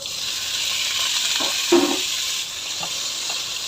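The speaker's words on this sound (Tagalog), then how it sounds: "Paluto lang na to kadali ng prawn" Prawns frying in a pan with sautéed garlic and onion, a steady broad sizzle running throughout with a brief louder crackle partway through, close and alone with no talking.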